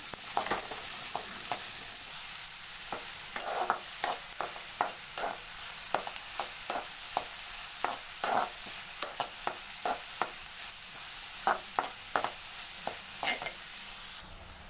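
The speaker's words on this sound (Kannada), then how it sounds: "ಇವಾಗ ಎಣ್ಣೆಯಲ್ಲಿ ಈರುಳ್ಳಿನ ಚೆನ್ನಾಗಿ ಫ್ರೈ ಮಾಡ್ಕೋತಾ ಇದ್ದೀನಿ." Onions fry in hot oil for egg bhurji under a steady, close sizzle, while a spoon scrapes and stirs the pan in repeated, fairly regular strokes throughout, with no talking.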